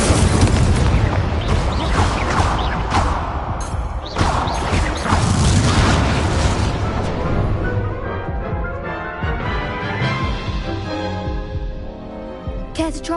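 Confringo, the explosive spell in Hogwarts Legacy, bursts in a series of loud booming blasts and crashes, followed by rumbling debris that gradually fades, with no voices over it.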